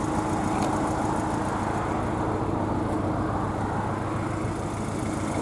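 A Porsche 718 Boxster with PDK gearbox idles steadily, its engine note low, even and continuous, heard close with no voices over it.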